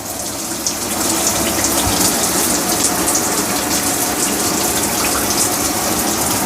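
An RV faucet sprayer gushes water in a steady, close, broadband hiss that grows slightly fuller after the first second, with no voices.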